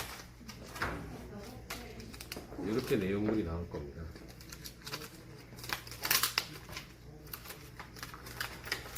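Plastic wrapping on a new defibrillator pad package is torn open, giving short crinkling rips under a person explaining in a calm indoor setting.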